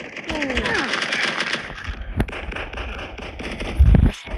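Bombs explode in a shooter video game: a deep, heavy blast booms near the end under a crackling battle backdrop, while a player talks and exclaims over the game sound.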